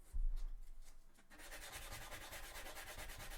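A nail file is rubbed by hand across cosplay shoe armour for Sisters of Battle from Warhammer 40k, giving quick, even rasping strokes that sound close and fairly quiet after a brief thump at the start.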